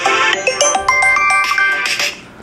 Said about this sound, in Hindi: डिफॉल्ट जो म्यूजिक आ रहा है दोस्तों स्मार्टफोन में उसको मैं प्ले कर रहा हूँ,